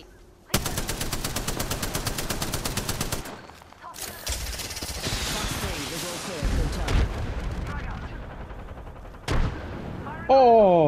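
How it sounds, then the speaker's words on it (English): A video game firefight with rapid gunfire bursts, a heavy grenade blast and trailing rumbles, loud and close, with a player talking over the action. "Oh, direct hit with that grenade."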